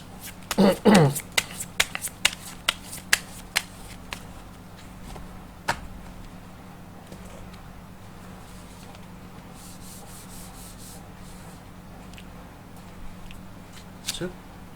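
Tarot cards riffle and snap in a quick shuffling burst near the start, followed by scattered light taps and rustles, with a person talking quietly throughout.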